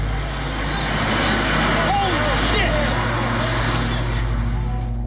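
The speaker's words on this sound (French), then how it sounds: "À 8h46, le premier avion s'écrase dans la tour nord du World Trade Center." A low-flying airliner roars steadily overhead in New York on the morning of 11 September 2001, before striking the World Trade Center north tower; the loud dense engine noise persists throughout, with people's voices mixed in.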